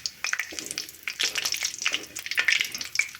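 Whole spices (bay leaf, large cardamom, cinnamon and cloves) frying in oil left from browning chicken pieces for chicken biryani, uneven crackling sizzle bursts with stirring scrapes, close and moderately loud, no voices.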